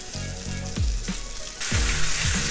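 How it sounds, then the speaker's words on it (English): A steak sizzles in a pan just after being flipped, a bright continuous crackle and hiss broken by low thumps, the sizzle swelling louder toward the end. "Now we flip the steak"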